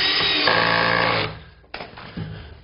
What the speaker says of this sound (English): I'm going to put 3 screws along the length as well, just to be sure.